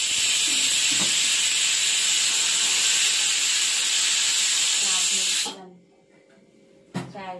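Steam hisses loudly and steadily from a pressure cooker as its pressure is released, a harsh, continuous blast that cuts off abruptly, followed by a brief spurt and faint room sounds with someone speaking.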